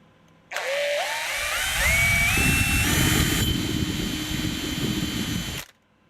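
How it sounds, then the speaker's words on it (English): A power drill chamfers a hex nut, its motor whining up in pitch as it spins and then grinding steadily against the metal for several seconds, loud and close, before stopping abruptly. "Let's try chamfering this hex nut that sits in there."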